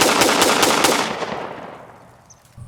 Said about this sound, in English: we fired 7 rounds as fast as we could